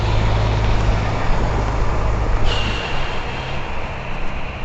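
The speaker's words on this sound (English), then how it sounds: "Here comes the school bus that's going to drown the sound out" A school bus drives past close by, its loud engine and road roar filling the street steadily, with a faint high whine rising midway.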